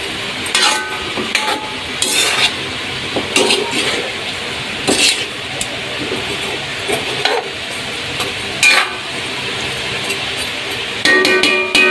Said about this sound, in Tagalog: tinaktak uli yung sandok